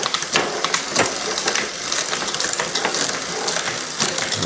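Sharp mechanical clicks and ratcheting of a basic Shimano bicycle derailleur shifting gears, several quick clicks spread over a few seconds with a whirring drivetrain underneath.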